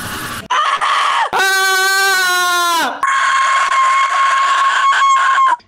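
A loud screaming chicken screamer sound effect blasts over an Omegle video chat. It starts with a short squawk, then a long, shrill, strained scream, followed by a sustained, piercing cry. It is very close and harsh, with no talking over it.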